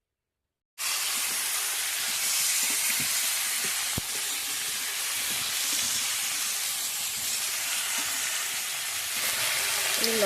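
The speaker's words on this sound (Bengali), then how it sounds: "সেই তেলে আমি চিকেনগুলো দিয়ে দেবো" Chicken pieces fry in hot oil left over from browning potatoes, giving a steady, close, loud hiss and sizzle that runs unbroken for about ten seconds with no talking.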